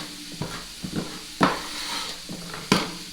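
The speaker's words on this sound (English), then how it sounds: "we're going to put our apples and onions, our brown sugar, and our sauerkraut in a bowl and mix everything together." Apples, onions, brown sugar and sauerkraut are mixed in a bowl, giving soft scraping and a few light clinks of a utensil against the bowl, close and fairly quiet, without talk.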